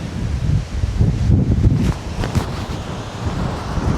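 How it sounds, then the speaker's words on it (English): Strong, gusty wind blows outdoors at a house renovation site in Portugal, roaring loudly against the microphone in broad rumbling surges with brief lulls, no voices. "today the wind is vicious"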